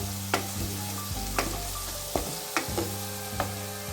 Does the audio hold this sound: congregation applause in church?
no